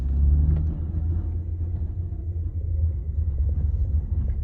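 A car engine hums with a steady low rumble while driving, its pitch and level shifting gently as it moves.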